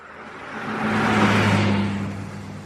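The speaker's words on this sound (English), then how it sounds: "A car pulled up at the lights next to him." A car approaches and idles up at traffic lights, its engine note rising and swelling to a steady hum before easing off, fairly close and heard alone.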